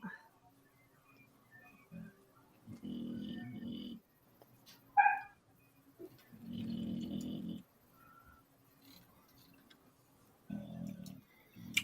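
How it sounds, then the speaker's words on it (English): Dogs lying at someone's feet indoors snore softly in slow, rhythmic bursts, with faint breathy pauses between each snore. "Somebody's snoring at Haley's feet."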